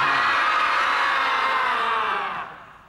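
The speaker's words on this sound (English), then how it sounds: "I'm going to ask you all to yell at the top of your lungs" A large audience yells at the top of their lungs together in a sustained, loud mass of screaming voices that holds steady before fading off near the end.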